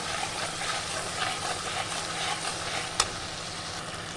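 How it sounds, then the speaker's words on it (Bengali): A little water added to a sizzling cumin-powder spice masala in a pan for a light fish and eggplant gravy: a steady, moderate frying hiss close by, with one sharp click partway through. "দিয়ে দিচ্ছি অল্প পরিমাণ জল"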